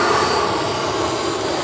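Boeing 737-700 jet airliner at Sydney Airport, a loud, steady broadband engine roar held without a break, with no voices over it.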